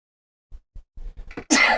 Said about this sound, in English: little sneeze attack